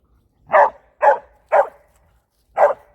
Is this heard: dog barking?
yes